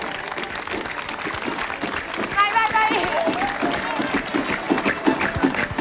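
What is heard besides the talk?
applause for Veronica dancing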